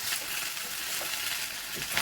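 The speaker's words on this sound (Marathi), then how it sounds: "आता छान परतून घेऊया आपण ही" Gram greens (harbhara bhaji) with asafoetida sautéing in a hot pan, a dense, even sizzle with faint stirring scrapes, close and continuous, no talking.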